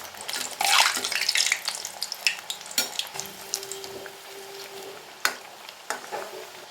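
Cassava vadas deep-frying in oil over a medium flame while being turned, giving a steady bubbling sizzle with scattered sharp crackles and a few louder clicks from the utensil, close by, with no talk.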